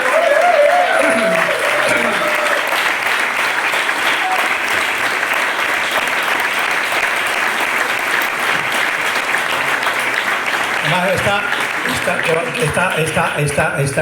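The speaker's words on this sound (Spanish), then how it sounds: "aplauso para Chustero" Loud, sustained applause from the audience at a youth football tournament award gala, with voices speaking over the clapping throughout.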